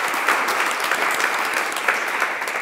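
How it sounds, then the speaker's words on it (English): An audience applauds presenters at a personal growth workshop on resilience, a steady, dense wash of many hands clapping at close range, holding an even level throughout with no voices standing out. "We want to give you applause too."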